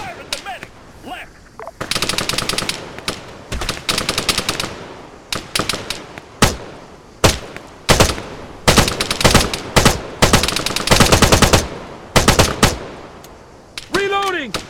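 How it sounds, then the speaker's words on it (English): Soldiers in Arma 3 trade gunfire in a combat firefight, with loud bursts of automatic rifle fire and single shots in clustered volleys, close and sharp, with brief gaps between rounds. "Fire at the soldier!"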